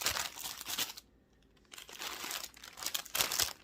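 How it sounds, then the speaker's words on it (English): Plastic packaging around hand-dyed mini yarn skeins crinkles close and loud in two bursts of sharp rustling, broken by a brief quiet gap. "Sorry for the crinkling."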